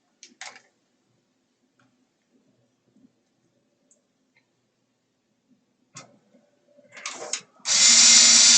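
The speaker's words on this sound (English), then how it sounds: "And now the screws for power supply." Power screwdriver driving screws into a PC power supply during a dead-PC repair: a few short taps early, then quiet, then rising whirring bursts ending in a loud sustained drill whine.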